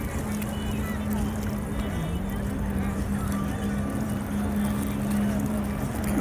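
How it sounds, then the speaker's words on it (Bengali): A speedboat runs on the water at sunset in Bahrain, its engine holding a steady, unbroken drone over constant wash and wind noise, never rising or fading. "আর এখানে স্পিড বোট চলতেছে"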